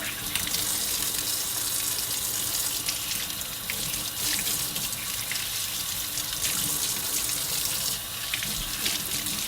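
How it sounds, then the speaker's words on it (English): A tap runs steadily into a kitchen sink while a hand is rinsed under the stream, a loud, close and continuous splashing gush with no speech. "Rinse my hand off."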